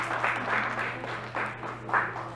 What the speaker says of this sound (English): Do give yourselves a round of applause.